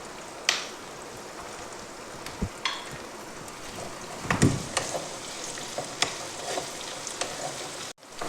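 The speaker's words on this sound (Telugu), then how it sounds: "ఇప్పుడు పచ్చిమిర్చి వేసేసుకుందాం" Green chillies dropped into hot oil in a pan for a tender okra curry, giving a steady soft sizzle with a few sharper pops and stirring clicks, close and alone with no talking.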